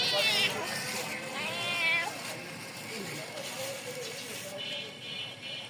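A cat meows a few times as it is given fish, high drawn-out cries standing out over steady background noise and some indistinct talking nearby.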